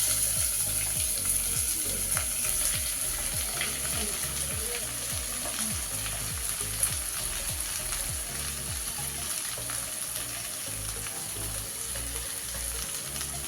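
Sliced onions fry in a pot for Kerala-style chicken biryani, a steady close sizzle with rhythmic scraping stirs throughout, no voices.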